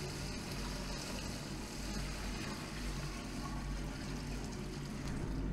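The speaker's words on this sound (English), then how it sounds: "I'm gonna dump some water in here." Tap water is dumped into a six-liter electrolytic silver cell, a steady rushing, splashing pour heard close and continuous without talk.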